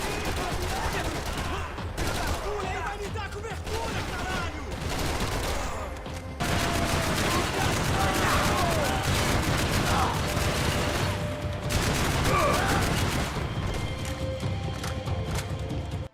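Gunfire in the Max Payne video game, a dense barrage of heavy, beefy shots and impacts that keeps going throughout, loud and busy with scattered thuds and debris.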